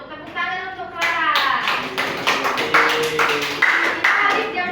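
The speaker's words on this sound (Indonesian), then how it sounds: "Tepuk tangan untuk Clara." Pupils in a school classroom clap for a classmate after a presentation, a burst of rhythmic sharp hand claps mixed with children's voices, steady and close for several seconds.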